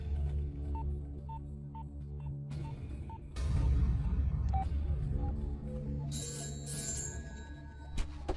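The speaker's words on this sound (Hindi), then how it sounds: "लगाओ फोन, लगाओ।" A series of telephone keypad tones beeps in quick succession over a low hum, followed by more electronic tones and a brief ring.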